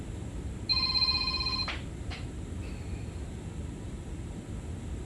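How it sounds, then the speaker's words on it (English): A telephone rings once with a steady electronic tone lasting about a second, followed by a couple of short clicks and a faint beep over constant aircraft cabin hum. "Phone's ringing"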